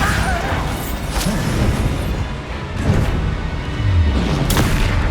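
Bombarda explosion spell cast in Hogwarts Legacy, heard as loud booming blasts and crashing impacts amid dense, continuous game combat noise, with a couple of sharp hits standing out.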